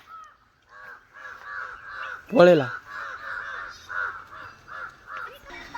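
Crows caw in a steady run of repeated calls after going after a pigeon, fairly close, with a person speaking loudly over them partway through.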